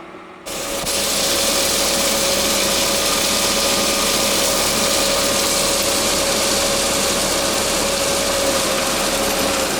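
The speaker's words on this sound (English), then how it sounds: "The forms are finished and they're getting filled with concrete." Machinery engine running at a house-foundation pour, filling the forms with concrete: a loud, steady drone with a constant hum that starts abruptly and holds evenly, with no voices.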